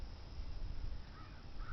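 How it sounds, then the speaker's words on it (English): Birds flying by overhead caw faintly in the distance, a couple of brief harsh calls near the end over a soft, rumbling background. "There we have the birds flying by."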